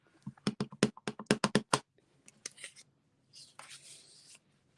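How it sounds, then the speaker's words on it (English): A rubber bulb stamp from the Merry and Bright set is inked in Melon Mambo and pressed onto card stock: a quick run of about a dozen crisp taps, then softer rubbing and shuffling of paper, close and fairly quiet. "I'm going to stamp one of the bulbs off."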